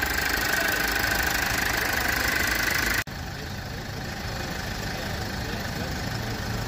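A 2-litre diesel car engine idles nearby in a steady rumbling drone with faint diesel knock, briefly cut off partway, then continuing slightly quieter and unchanged to the end.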